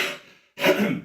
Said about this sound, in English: And excuse me for that cough